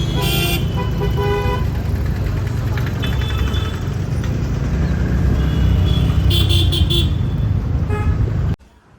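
Inside an auto rickshaw moving through city road traffic, a constant loud engine and road roar fills the ride, with several short horn toots from nearby vehicles sounding at the start and near the end.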